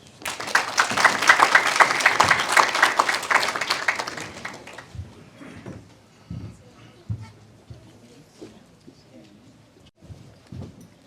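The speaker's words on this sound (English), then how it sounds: "Please give him a big round of applause." Audience applause at a cultural week celebration supporting migrants, loud dense clapping for about four seconds that stops abruptly, followed by scattered faint thumps and quiet room noise.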